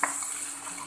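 A spoon stirs an oyster mushroom omelette in a pan on a low-power induction heater, giving a short, soft scrape against a faint steady sizzle.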